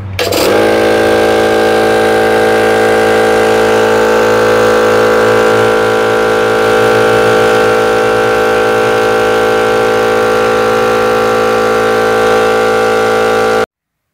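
Airbrush air compressor switched on and running, a loud steady motor hum with a strong tonal whine that starts abruptly and holds unchanged until it cuts off near the end.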